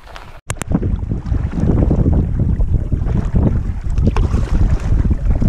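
Strong wind buffets the microphone while canoeing on Waldo Lake in Oregon, a loud, continuous rushing roar after a brief dip and a couple of sharp knocks at the start, with no voices.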